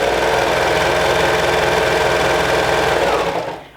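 A sewing machine stitching cardigan fabric runs steadily at high speed with a dense, buzzing rattle, close and loud, then slows and stops at the end.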